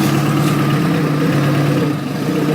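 A motorbike engine idles steadily while the bike is being parked, giving a close, even mid-pitched putter that stays constant and alone throughout.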